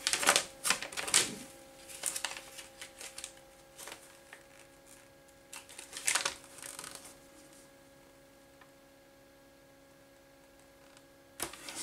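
A cheap knife sharpener being folded open, giving a cluster of sharp plastic clicks and rattles near the start, another burst midway and a final snap at the end, over faint room hum.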